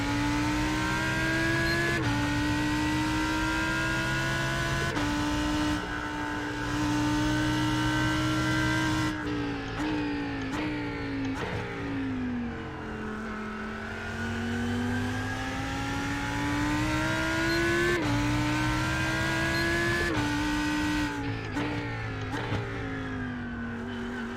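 Race car engines drone continuously in iRacing at Daytona, in the 24-hour race, as cars overtake. The loud, tonal whine rises and falls in pitch, and a few brief dips and shifts break the sustained roar.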